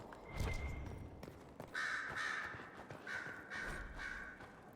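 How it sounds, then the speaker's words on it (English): Crows cawing in the bird rookery at Skyhold in Dragon Age: Inquisition, several harsh caws in short bursts over a low ambient background, moderately near, with no voices. "Skyhold's rookery. That's where we keep the birds."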